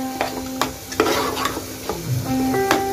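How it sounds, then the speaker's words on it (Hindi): Onion, tomato and potato frying for Hyderabadi mutton curry, a spoon scraping and stirring repeatedly in uneven strokes over a close, constant sizzle, with short tonal pan clinks. "देखो मैं कैसा भून रही"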